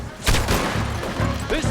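Gunfire in Red Dead Redemption 2: a quick burst of several loud, sharp shots crackles over game noise within under two seconds.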